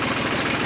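A revived Jinma tractor engine, once hydrolocked after sitting in a pasture, runs at a steady idle with a low, even chugging pulse that stays loud and close throughout.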